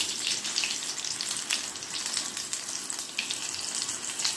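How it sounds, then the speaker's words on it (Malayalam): Surat-style tomato bhaji frying in hot oil gives a dense, steady sizzle that holds evenly throughout, close by and with no voices. "ഇതാക്കിയിട്ട് നമുക്കിനി ഓയിലിൽ വറുത്ത് വരാം"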